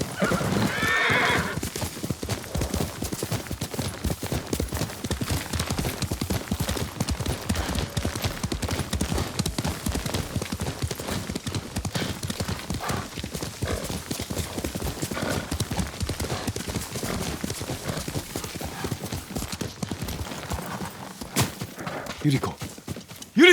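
Horse hooves clip-clopping at a gallop in the video game Ghost of Tsushima, rhythmic and continuous for the whole stretch, with a whinny near the start and bursts of game talk over it.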